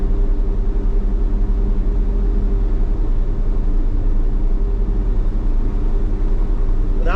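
An old truck with a carburetor and newly adjusted electric choke idles steadily, a loud, even low rumble that holds constant throughout with no talk.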